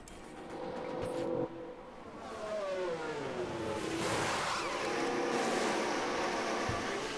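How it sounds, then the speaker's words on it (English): An F1 car in the F1 Manager 2024 racing game slowing into the pit lane, a steady engine drone with a falling pitch sweep and a sustained mechanical whine, moderately loud and alone without talk. "So Lawson into the pits now for his last stop onto the hards."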